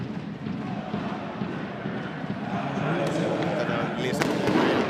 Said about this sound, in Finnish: Nyt pääsi kyllä nämä ilotulitteet sitten yllättämään aika lailla.